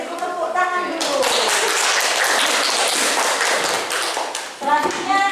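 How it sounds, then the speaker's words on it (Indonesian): Applause and clapping from a classroom of students after a group presentation, a dense burst of many hands that fills the room, with a teacher's voice and children's voices over the start and end. "Beri tepuk tangan dulu."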